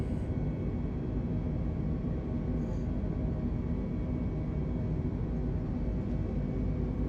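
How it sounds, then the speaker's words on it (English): Airliner jet engines spooling up for a takeoff roll from Gibraltar in Flight Simulator 2020, a steady, loud broadband roar that holds constant throughout with no speech over it. "I heard the engines build up,"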